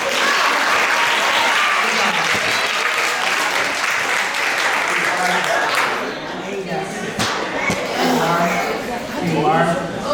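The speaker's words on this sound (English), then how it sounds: "Give these ladies a round of applause." An audience applauds loudly and steadily at a Columbus, Ohio event, continuous clapping filling the whole stretch and easing slightly near the end, with a voice briefly audible beneath it.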